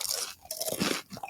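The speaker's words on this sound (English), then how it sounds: "let's get a crunch here" Someone bites into crunchy food at lunch, giving a few dry, close crunches in quick succession with chewing in between and no speech.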